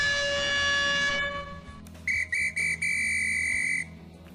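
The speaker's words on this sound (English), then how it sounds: "Listen for either a horn or a whistle that will indicate that a load is being lifted and moved" A construction site signal whistle warning that a load is being lifted and moved: one long steady blast, then several short rapid toots and a final sustained blast, loud and clear with no talk.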